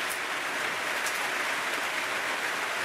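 Rain falls steadily with a continuous, dense hiss of drops and no voices.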